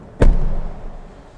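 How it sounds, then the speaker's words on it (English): A 2024 Volkswagen Golf R door swings shut with a single close, muffled thud that has a soft, damped character and fades into a low lingering rumble. "Listen to the sound of the door. It sounds a bit fluffy compared to before"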